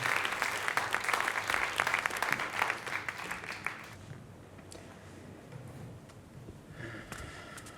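Audience applause at a theatre performance against domestic violence, a dense burst of clapping for about four seconds before fading into quieter room noise with a brief second patter near the end.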